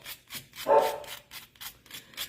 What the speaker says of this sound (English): now my dogs are going to lose their marbles